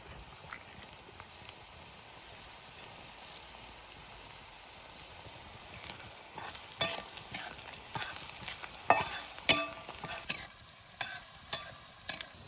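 Coriander seeds and onion frying in a pan: a soft, steady sizzle joined by sharp scraping and stirring clacks that grow louder and more frequent in the second half.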